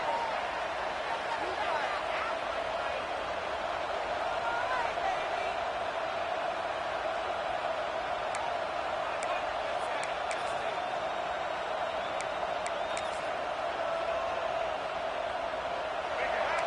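A steady, dense roar from a stadium crowd in the College Football 26 video game during a Florida vs South Carolina matchup, continuous throughout with a commentator talking over it.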